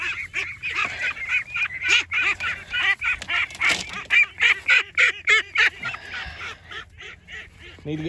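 A flock of Khaki Campbell ducks quacking loudly and repeatedly outdoors, rapid overlapping honking calls in bursts that grow more regular toward the end.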